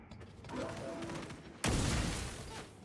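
Gunfire in a Warhammer video game, with mechanical clatter and ratcheting giving way to a sudden loud burst of shots that keeps going for about a second before easing off.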